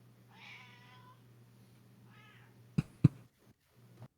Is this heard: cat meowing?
yes